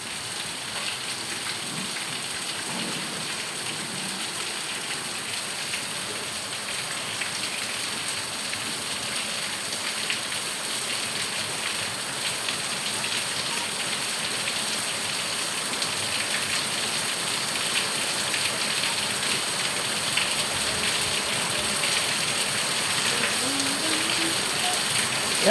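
Heavy rain falls in a steady, dense downpour, an even roar of drops on surfaces that holds unbroken throughout.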